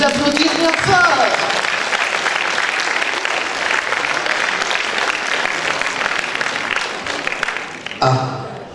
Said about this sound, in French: Vous pouvez vous applaudir bien fort.